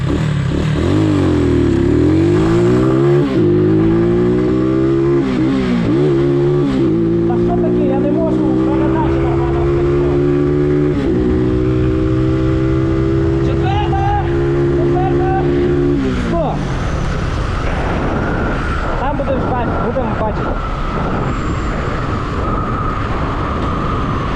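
A 200 cc Mustang ST200 motorcycle on stock sprockets accelerates from a standstill, its engine note climbing through several gear-like steps for about sixteen seconds before fading into broadband road and wind noise, with people talking over it.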